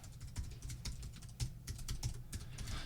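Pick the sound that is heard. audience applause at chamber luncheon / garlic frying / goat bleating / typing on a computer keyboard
typing on a computer keyboard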